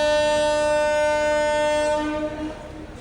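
Bhuj–Rajkot express train departing Morbi station sounds a long, loud, steady horn blast that fades out after about two seconds, leaving faint rail rumble behind.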